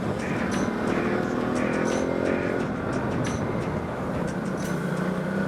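Ducati Multistrada 950 motorcycle ridden in enduro mode, giving a steady, loud engine drone with dense broadband road and wind roar throughout, no talking.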